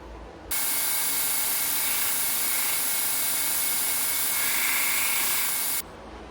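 Belt grinder fitted with a radius attachment shapes the curved parts of a kitchen knife blade, a steady loud abrasive whir starting abruptly and running for about five seconds before cutting off, with no talk.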